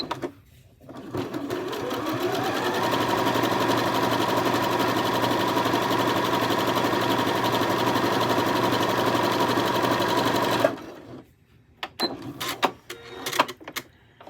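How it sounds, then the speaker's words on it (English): A sewing machine runs in one steady, continuous burst while top stitching fabric about a quarter inch from a folded edge on both sides, then stops, leaving a few faint handling clicks and taps. "I'm going to top stitch it on both sides"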